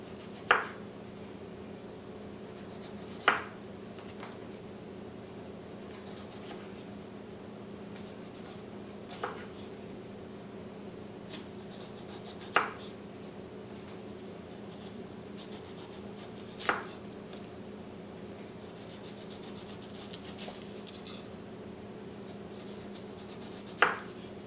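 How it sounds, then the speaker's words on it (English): Sharp knife peeling 1.5 to 2 inch round slices of nyami root, giving faint scraping strokes punctuated by six or seven sharp clicks of the blade spaced a few seconds apart over a steady low hum. "With a sharp knife, let's peel the nyami."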